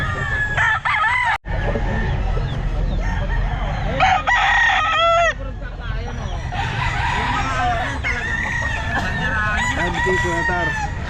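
Several roosters crow, one after another and overlapping, amid clucking hens and a busy, noisy pet market background.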